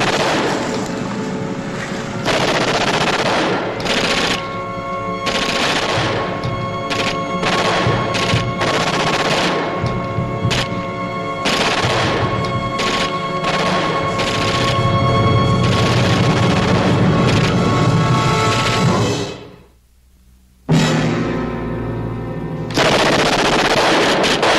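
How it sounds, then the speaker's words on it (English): Loud, sustained machine gun fire in a 1960s war drama comes in long rattling bursts with heavy booms mixed in, stopping briefly near the end before firing resumes. "That's not Saunders shooting."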